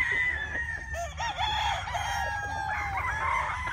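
A White Kelso rooster, a famous Philippine gamefowl bloodline, crows loudly and close by, with a drawn-out wavering call and faint clucking from other fowl in the background.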